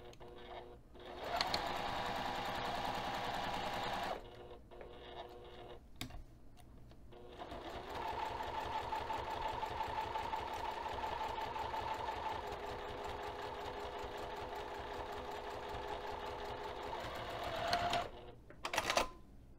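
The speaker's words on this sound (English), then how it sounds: "we're going to take this over to the sewing machine and tap stitch the finished edge" Sewing machine top stitching the finished edge of a fabric bag with a 3 mm stitch, running in close bursts of steady mechanical whirring separated by short pauses, with a longer run in the middle.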